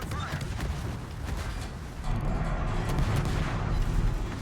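Naval guns firing armor-piercing shells in World of Warships, heard as a continuous rumble of distant booms and battle noise that swells louder partway through, with no clear separate shots standing out.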